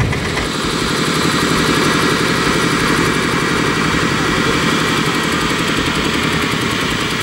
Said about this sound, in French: Et le tracteur démarre.